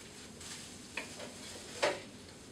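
Squash slices cooking in a pan give off a faint, steady sizzle, with a couple of brief utensil clinks or stirs standing out near the end.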